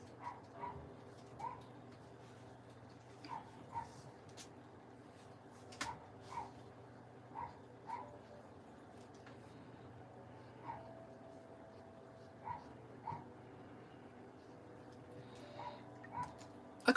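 Neighbouring dogs barking and whimpering next door, with short faint yips and barks repeating at irregular intervals over a quiet indoor hum, heard at a distance.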